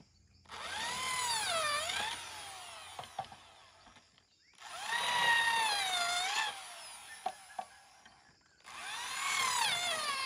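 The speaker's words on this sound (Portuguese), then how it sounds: "Agora é só marcar, furar e parafusar." A power drill whines in three long bursts, its pitch rising and dipping as it bites into wood while building a farm gate, with short knocks and clatter in the pauses between.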